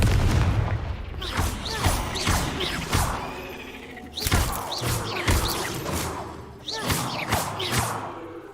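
Confringo blasting curses exploding in Hogwarts Legacy, a series of heavy booming blasts in irregular bursts with crashing impacts and debris, loud and close, with a voice briefly heard among them.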